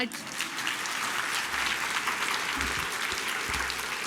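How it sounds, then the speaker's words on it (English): Conference audience clapping for a speaker in a talk on relieving work-related stress with humour, sustained dense applause at even loudness throughout, fairly close and unbroken. "And how about a round of applause for Lydia"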